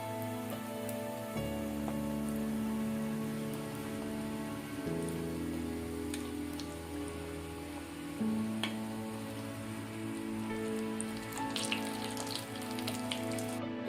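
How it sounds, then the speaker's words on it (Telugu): Onion samosas deep-frying in hot oil, a continuous fine bubbling hiss that runs steadily throughout, with a low hum underneath and no one talking. "బ్రౌన్ కలర్లోకి వేగినాయి"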